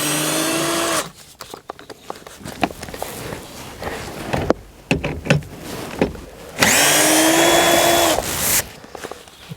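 A power tool spins out the T25 Torx screws holding a Seat Exeo door speaker, in two loud whirring bursts of about a second and two seconds separated by quieter handling clatter and knocks.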